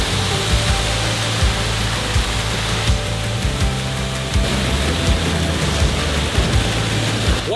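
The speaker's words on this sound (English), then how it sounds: "What I find unique about this waterfall is that it splits off right through the middle of it." Montgomery Falls, a small split waterfall near Dahlonega, Georgia, gives a loud, steady broadband rush of falling water that fills the whole stretch without pause, close by and unbroken.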